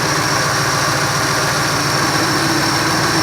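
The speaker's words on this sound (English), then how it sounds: "That is one smooth running motor though." A 1998 Ford Expedition Eddie Bauer 4X4 with a 5.4L Triton V8 idles smoothly nearby after an oil change, a steady low rumble with an even throb and no talking.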